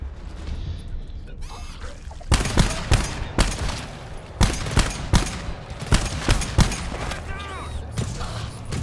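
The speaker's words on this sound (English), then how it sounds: "The sentry gun!" Sentry gun fire in a video game, a series of sharp loud bursts and bangs in uneven clusters, with a voice talking over the shots.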